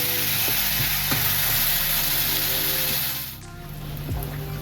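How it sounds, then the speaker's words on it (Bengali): Raw banana and potato pieces fry with salt and turmeric in a pan, giving a loud, close, steady sizzle with a few stirring scrapes. The sizzle dips briefly near the end, and no one speaks. "সাথে লবণ দিয়ে দিলাম, পরিমাণ মতো হলুদ দিয়ে কাঁচকলা আলুটাকে ভালো করে ভেজে নিচ্ছি।"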